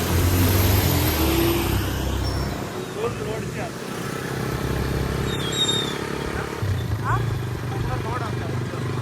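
An overloaded tempo truck climbing uphill sends a steady engine drone through the scene, heard under people talking nearby.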